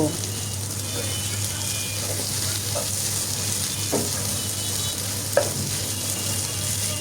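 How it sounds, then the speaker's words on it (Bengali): Beef brain frying on low heat in a pan with no water added: a steady soft sizzle runs throughout, with occasional light scrapes and taps of a utensil, and no one speaking. "এই তো ভাজা হচ্ছে আর কোনো ধরনের পানি অ্যাড করব না আস্তে আস্তে একদম লো আছে ভাজতে থাকব"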